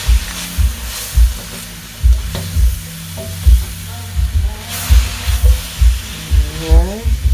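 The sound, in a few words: beef stir-fry sauteing in a pan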